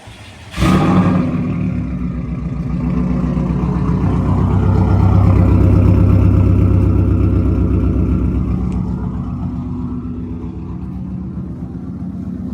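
A 92-X Aero car engine cranks and catches with a sudden burst, then settles into a loud, deep idle that swells and eases off, close by.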